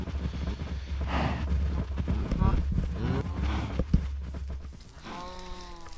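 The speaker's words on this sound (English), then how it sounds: "But you can see we got a lot of cows." Cattle in a farming video game moo repeatedly, several calls spread across the clip over a steady low hum and game sounds, with a clear moo near the end.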